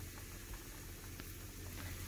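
Purslane and yogurt soup bubbling at a steady rolling boil in a pot, a soft continuous burble with faint pops and crackles, close and fairly quiet, no voices.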